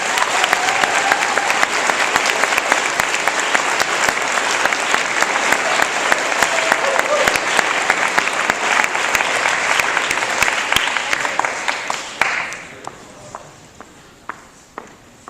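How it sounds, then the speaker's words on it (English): Audience applauding at a patriotism lyceum award presentation, dense sustained clapping from a gathered crowd that carries on for about twelve seconds, then thins to a few scattered claps and fades out. "Let's give her a round of applause."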